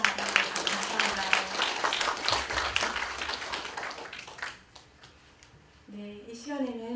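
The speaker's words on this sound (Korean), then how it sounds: "뜨거운 박수로 감사합니다" Audience claps warmly for a guest lecturer at a Korean women's patriotic society gathering, a lively burst that dwindles to scattered claps before a voice begins speaking near the end.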